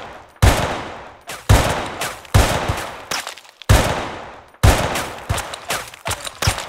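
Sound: rapid gunfire in the video game SA-MP

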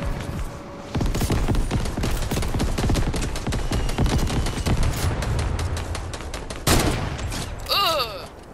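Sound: gunfire in Fortnite video game

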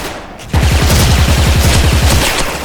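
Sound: M4A1 gunfire in a video game

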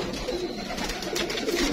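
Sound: pigeons in a breeder's loft

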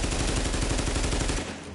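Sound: gunfire from the video game The Division

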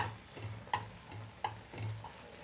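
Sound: stirring jowar flour upma in a pan on low flame

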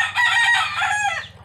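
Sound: rooster crowing among backyard-bred gamecocks

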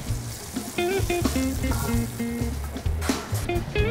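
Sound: squid searing in a hot pan

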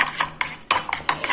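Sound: stirring salad with soy sauce and pepper in bowl

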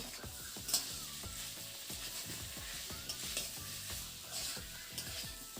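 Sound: raw tamarind frying with turmeric and cumin powder

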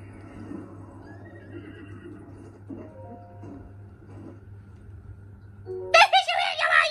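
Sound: horse neighing in Zelda Breath of the Wild video game

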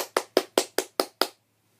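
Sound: hands clapping

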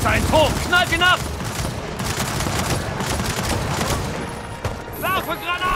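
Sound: gunfire at a turret in video game Gears of War 4

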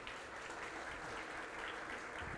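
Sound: audience applauding the chairman

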